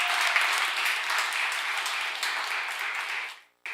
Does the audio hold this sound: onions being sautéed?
no